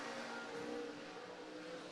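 Winged sprint cars race on a dirt oval at USA Raceway, a faint, steady engine drone at a distance, briefly and alone with no talk.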